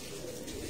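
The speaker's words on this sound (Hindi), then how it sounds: "देसी कबूतर आपको नजर आएंगे" Low, soft cooing from domestic pigeons close by, a brief murmuring call over faint background hiss.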